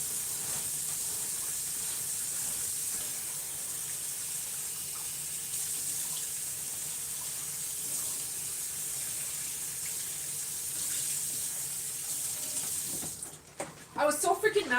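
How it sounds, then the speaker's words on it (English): Tap water runs steadily into a sink, rinsing blood out of a container in a home kitchen, a continuous close hiss that ends with a few clattering knocks. "I gotta rinse this blood out of this container."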